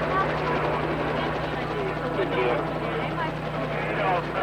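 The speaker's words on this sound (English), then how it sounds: "The helicopter's overhead and I can't hear you." A loud, steady helicopter drone with a pulsing rotor thump fills the whole stretch, close overhead, with voices faintly mixed underneath.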